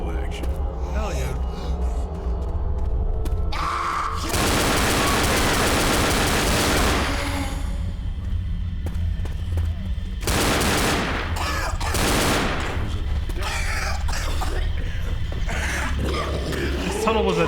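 Dual pistols fire in the video game Left 4 Dead in dense bursts, two long loud volleys and several shorter ones, amid game noise and frequent talking.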